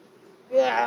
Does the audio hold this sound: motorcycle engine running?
no